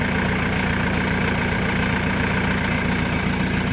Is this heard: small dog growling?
no